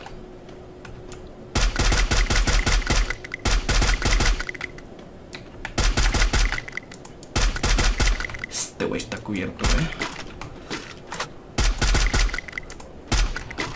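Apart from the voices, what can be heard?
gunshots in a video game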